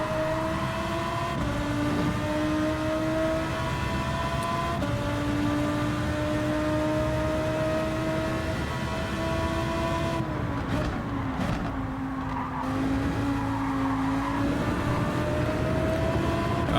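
A Lamborghini race car laps a track in Gran Turismo 7, its engine holding a steady loud drone with rising and falling pitch through gear shifts, heard alone without voices.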